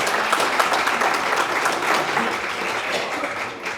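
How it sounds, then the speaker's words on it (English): Dense, steady audience applause fills a community health and safety morning event, a continuous wash of many hands clapping at even loudness for nearly four seconds before tapering slightly at the end. "a round of applause, please"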